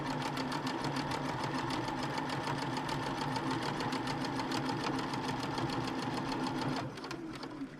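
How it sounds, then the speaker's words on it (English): A sewing machine runs a straight seam through fabric in one fast, steady rattling burst of stitching, close and loud, slowing and stopping near the end. "I'm just going to sew. Nice straight seam."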